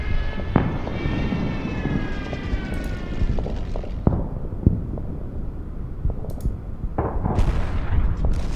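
Stuka dive-bomber attack on Soviet infantry backed by a T-34-85 in the Order of Battle Winter War game: a descending whistling tone, then several sharp explosive thumps over a steady rumbling battle din, with no voices.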